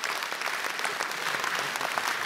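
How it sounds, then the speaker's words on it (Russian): Brief burst of audience applause at an award ceremony, many hands clapping densely and steadily with no voices on top. "Браво вам! Аплодисменты!"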